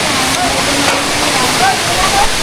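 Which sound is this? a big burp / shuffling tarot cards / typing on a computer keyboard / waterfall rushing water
waterfall rushing water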